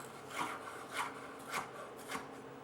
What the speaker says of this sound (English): I've also seen it done into a rough coarse chop like we're doing now.